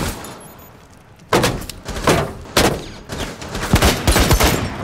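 Gunshots in Rainbow Six Siege during a Kafe team deathmatch, with several loud, sharp reports coming in separate bursts about a second apart, close up and without talk.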